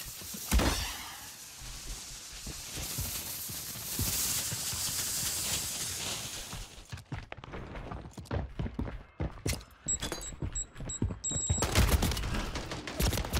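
Rapid bursts of Sidewinder gunfire in Warzone 3, dense sustained shooting at first, then sharp repeated shots and clattering impacts in quick succession, loud and close.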